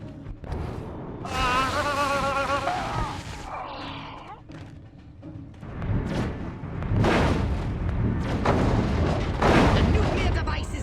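A nuclear device blows apart in the Destroy All Humans video game, heavy rumbling booms and blasts rolling on for several seconds, loud and dense, with a voice speaking briefly.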